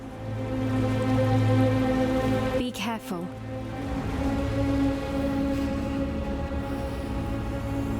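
Steady rainfall in the video game Path of Exile, a continuous hiss of falling rain that runs under a brief spoken line and in-game ambience.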